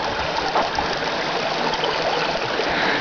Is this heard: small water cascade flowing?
yes